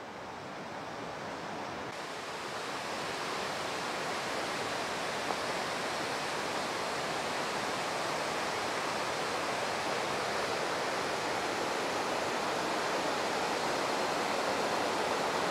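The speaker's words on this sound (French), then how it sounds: "Cette eau qui ruisselle là sur tous ces paliers, c'est magnifique." A waterfall cascading down several rock tiers in Mae Sot, a continuous roaring rush of water that swells slightly after the first couple of seconds and stays loud and close throughout, with no voices.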